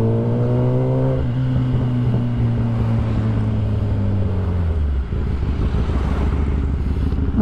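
A motorcycle engine runs loud and close in traffic, with a steady drone that slides downward in pitch as it slows, then rough, broadband road noise from nearby vehicles.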